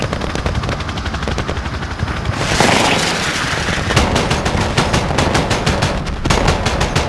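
Gunfire in the Modern Warfare video game, a steady stream of rapid machine-gun shots over a dense rumbling battlefield, loud and continuous with a brief heavier blast partway through, and no talking.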